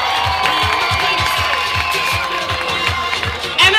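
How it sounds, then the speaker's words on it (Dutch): A backstage crew at the end of a children's musical stage show cheers and applauds as a crowd, with whoops and shouts over steady clapping that holds loud throughout. "Backstage, laat je horen!"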